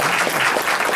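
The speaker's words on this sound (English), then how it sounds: "So give him a big round of applause." Dense applause from an event audience greets a father about to turn 80, steady clapping throughout at close range.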